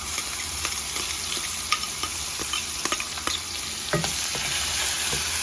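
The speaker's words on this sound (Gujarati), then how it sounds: "હવે ડુંગળી જ્યાં સુધી લાલ ના થાય ત્યાં સુધી આપણે સાંતળીશું।" Chopped onions sautéing in a pan with asafoetida, bay leaf and a cinnamon stick, a steady close sizzle broken by scattered scrapes and clicks of stirring, with no voices.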